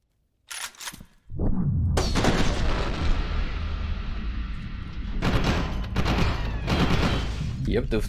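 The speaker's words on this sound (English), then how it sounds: "the fuel tanks just straight up go kablooey with the fuel key shots" Gunfire and a fuel tank exploding in the F.E.A.R. 2 video game: after a short quiet start, a sudden burst erupts into sustained loud, crackling blast noise with repeated surges and rumbling, with a second swell near the end.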